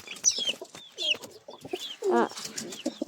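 Pigeons scuffle and coo up close, a busy mix of short calls, rustles and wing flutters in uneven bursts, with a louder throaty coo midway.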